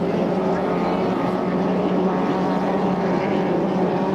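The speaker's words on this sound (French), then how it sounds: "le Shameless de Brandon Kennedy, là, qui, lui, à la sortie du premier virage, était devant tous ses rivaux" A 2.5-litre racing hydroplane's engine drones loud and constant through a turn at a St-Félicien race, with a steady buzzing roar and no breaks.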